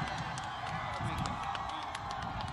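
An audience at a Sargodha university gathering claps and cheers for PTI chairman Imran Khan, a dense, continuous patter of applause with scattered whoops, somewhat distant.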